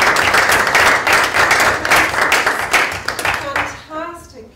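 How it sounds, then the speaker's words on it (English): A seminar audience claps for a presenter, a burst of crowd applause that stays strong, then thins and fades out near the end as a voice begins speaking over the tail. "Can we give Santhi a round of applause?"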